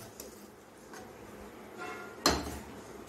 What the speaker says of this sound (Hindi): ये मैं ढक दूंगी